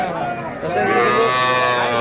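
A young calf at Raniganj cattle market, where heifer and bull calves are sold, lets out one loud, drawn-out moo close by, filling most of the two seconds.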